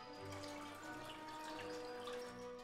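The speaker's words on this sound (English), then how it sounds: "now we're going to take our soda and pour it into bottles" Homemade lemon lime ginger bug soda pours into a bottle in a continuous trickling stream, quiet and close, with a rising tone as the bottle fills.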